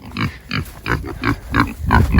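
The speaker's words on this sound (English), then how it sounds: "and so I want to show you these pigs" Kunekune pigs rooting in a field give a series of close grunts, about five or six evenly spaced snorts in two seconds, with no talk.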